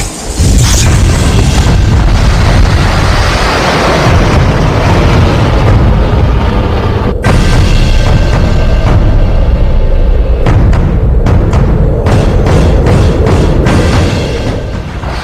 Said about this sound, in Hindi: सिर्फ 5 सेकंड में आसमान में दुनिया की सबसे खतरनाक मिसाइल खोखे से बाहर।